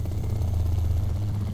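Cobra attack helicopter engine in a flight simulator game, a steady low droning hum with a constant tonal rumble, alone and unbroken throughout.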